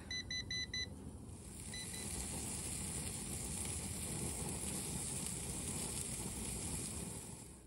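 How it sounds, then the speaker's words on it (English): A wireless meat thermometer alarm gives a quick series of sharp electronic beeps up close, then a faint repeat, over steady outdoor hiss and rumble beside a grill. "it's alarming me on both devices here that I need to take the meat off."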